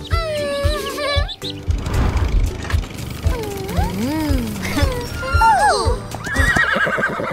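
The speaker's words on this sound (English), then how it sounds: "This is a horse." Several horse whinnies and neighs rise and fall in pitch, loud and close, with a brief clip-clop of hooves near the start.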